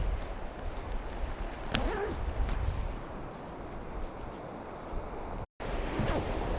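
Sea water surging and receding around a boulder on Kilfarrasy beach, a steady wash of surf with wind buffeting the microphone, moderately loud and continuous, broken by a brief dropout.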